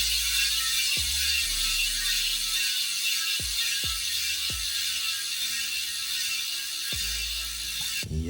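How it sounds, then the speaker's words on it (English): A DT Swiss 54-tooth star ratchet hub freewheels in a Roval C38 wheel, giving several separate bursts of fast, loud buzzing clicks that each slow and stop, with quiet gaps between them. "Now let's listen to the after with the 54 tooth."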